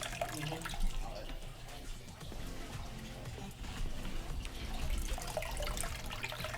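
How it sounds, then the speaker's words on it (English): Water splashes and trickles as it is poured into a 55 gallon aquarium during setup, a steady mid-level pouring sound with some faint background voice. "I'm putting in some water, and I plug it in from down there."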